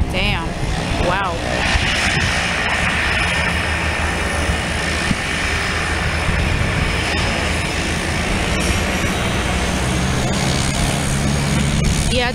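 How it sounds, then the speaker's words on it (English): Aircraft N900JA sits at Aurora Municipal Airport with a loud, steady engine roar that holds strong and close throughout, as someone talks over it. "This is the aircraft. N900JA. She's loud."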